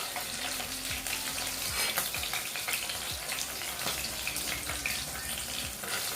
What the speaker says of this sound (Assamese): এইখিনি ফ্ৰাই কৰি হৈ গ'ল বেছি সময় নালাগে ফ্ৰাই কৰিবলৈ